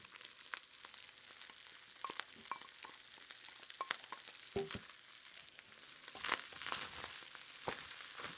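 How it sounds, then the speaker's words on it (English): Onion, carrot, celery and chopped mushroom sautéing in a pan, a soft, crackling sizzle with scattered pops and a few stirring scrapes, quiet and close, no voices. "Okay, well that sautés down."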